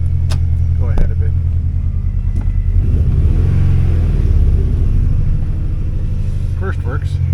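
2003 Mini Cooper driving slowly in first gear with worn, wobbly brakes, a loud steady low engine rumble with a slight swell midway, as someone talks over it.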